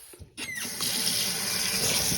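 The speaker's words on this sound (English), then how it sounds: "I'm going to add a little water in there." Tap water pours steadily into a bowl of raw chicken wings just rinsed with white distilled vinegar, a continuous close splashing rush that starts after a brief knock and runs alone without talk.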